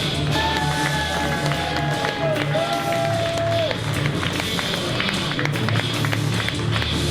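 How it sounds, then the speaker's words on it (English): A noisy wrestling crowd keeps clapping and cheering, dense and continuous, with a few whistle-like tones rising above the din early on. "Everyone clapping"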